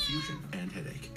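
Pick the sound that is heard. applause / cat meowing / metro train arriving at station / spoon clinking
cat meowing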